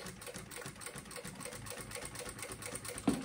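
A sewing machine with a size 18 needle stitches a synthetic-fabric box pouch, running in a steady, close, fast mechanical whirr with a brief thump near the end.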